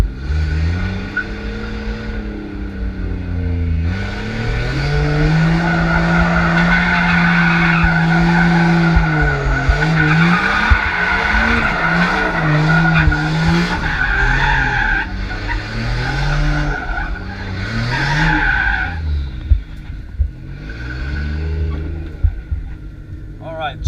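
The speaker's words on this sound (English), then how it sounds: "warming up the tires, a little bit on the front, a little bit on the rear" A race car warming its tires with a loud, sustained engine drone that rises and falls and repeated squealing skids as the front and rear tires are worked, with a voice talking briefly over the engine at times.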